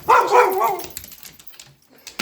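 A dog barks in a quick burst of loud, yappy barks up close, then the sound fades to quiet room noise with a faint thump at the end.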